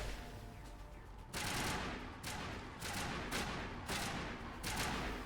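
Video game gunfire rings out in repeated loud bursts, several bright cracks and volleys spaced about a second apart over a steady rumbling battle backdrop, with no talking.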